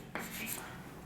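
A chalk or marker stroke scratches across a board during a chemistry lesson, a faint, brief scrape, followed by another, with no clear talk over it.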